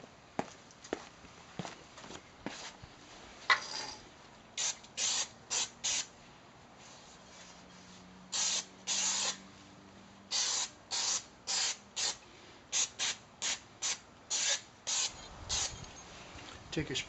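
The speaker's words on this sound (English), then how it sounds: "If you have some brake cleaner, now would be a good time to spray it on the rotor" Brake cleaner is sprayed onto a Mercedes rear brake rotor and caliper piston area in a run of short, sharp aerosol hisses of about half a second each, close to the mic. Faint handling noises come between the bursts.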